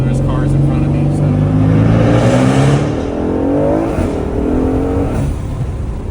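An Aston Martin Vantage with an M177 V8 and big turbo upgrade accelerates hard from inside the cabin, the engine note climbing through rising gear pulls, with a voice speaking over it.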